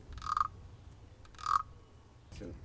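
A wooden frog rasp is stroked softly, giving three short ratcheting croaks spaced apart, close and fairly quiet against a faint background.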